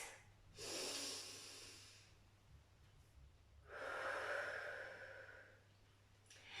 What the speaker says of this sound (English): Take a deep breath in and exhale deeply out